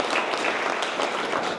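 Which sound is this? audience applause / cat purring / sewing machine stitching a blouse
audience applause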